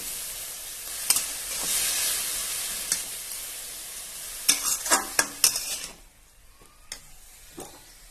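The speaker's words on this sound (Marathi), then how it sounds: "त्याच्यामध्ये जे भिजवलेली डाळ कांदे आणि शेंगदाणे घालायचे हे परतून घ्यायचं ना" Soaked lentils, onions and peanuts sautéing in a pan for a dill greens dish, a soft hiss of sizzling broken by sharp scrapes and knocks of a spoon against the pan, then trailing off quieter.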